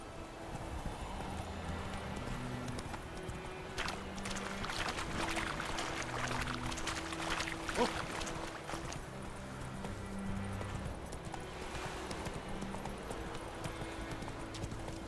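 Horse hooves clip-clopping at a steady trot in The Witcher 3 video game, a continuous rhythmic clatter mixed with ambient game sound and music, moderately quiet and without talk.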